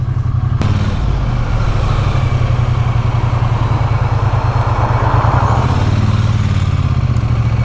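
A 2023 Triumph Bonneville T100 motorcycle engine drones steadily and up close in traffic, with a low throbbing rumble that swells slightly as it moves along. No voices.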